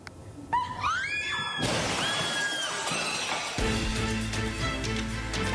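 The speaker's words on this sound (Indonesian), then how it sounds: "Akibat hantaman cukup keras, kaca hancur berantakan." Glass shattering loudly as a driverless electric taxi rolls backward and crashes into a restaurant, a sharp smash followed by scattered clinking debris, with a high squeal and a shout heard around the impact.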